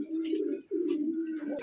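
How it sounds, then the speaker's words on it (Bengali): Fancy pet pigeons cooing close by, a pair of low, throaty rolling coos in quick succession with a short pause between, clear and alone. "এখানে একদম পুতুলের মতন একজোড়া রাসগোল্লা কবুতর আছে"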